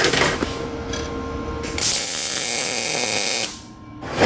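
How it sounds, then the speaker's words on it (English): An angle grinder runs in a mobile welding workshop where a flood-damaged generator is being turned into a go kart; it gives a loud, steady whir for a couple of seconds among clanking metal, then drops away and starts again. "What was that? Grinder."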